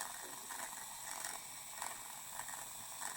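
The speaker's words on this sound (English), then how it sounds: "You can hear it grinding into all the individual crystalline elements in the board." A small DIY mini drill grinds into a printed circuit board, giving a faint, gritty, rapidly ratcheting buzz that pulses unevenly as pressure varies, heard alone without speech.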